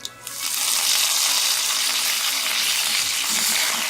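Curry leaves hit hot oil with broken whole red chilies while tempering for curd upma, setting off a sudden loud, steady crackling sizzle that stays close and continuous.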